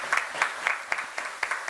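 Applause after young San Fernando performers at a city council meeting: a sustained burst of moderate clapping from an audience indoors, fairly steady through the short stretch with no talk over it.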